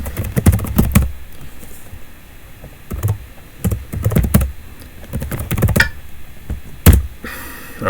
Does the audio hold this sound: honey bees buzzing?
no